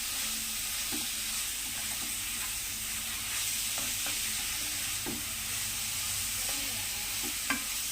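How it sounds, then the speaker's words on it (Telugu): Grated ripe papaya fries in a pan with a constant, close sizzle, broken by soft scraping strokes of a stirring spoon. "పచ్చివాసన పోయేంత వరకు ఫ్రై చేసుకోవాలి ఫ్రెండ్స్."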